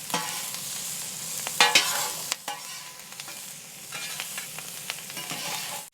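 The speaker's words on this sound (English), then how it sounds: "We're gonna cook these until the onions get a little translucent." Onions sizzle and fry on a carbon steel griddle set on a Konnected Joe kamado grill for Philly cheesesteaks, with a steady crackle broken by scraping and stirring clatter from a spatula, close and alone.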